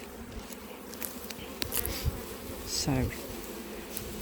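Honey bees buzz steadily around opened beehives, a continuous insect drone with a few louder passes close by and a brief word of speech.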